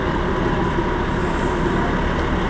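A bus passes close by on a busy New York City street, Fifth Avenue near 12th Street, its loud steady engine roar and road rumble filling the air for the whole stretch.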